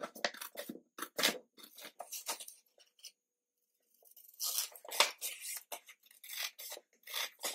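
Cardboard from an old box is cut by hand, close-up rasping and scraping strokes in uneven bursts, with a short pause in the middle before the cutting resumes.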